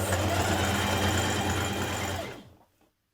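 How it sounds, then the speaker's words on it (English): A sewing machine running steadily as it stitches around the neckband of a Simplicity 9385 sweater. The loud, continuous mechanical whir winds down and stops near the end, leaving silence. "just stitch it all the way around the neckband, just to keep it lying flat and in place"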